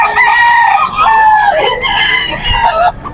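Several bull stag fighting cocks crowing loudly and close at a rooster market in Bocaue, Bulacan, their overlapping crows running continuously with a brief dip near the end.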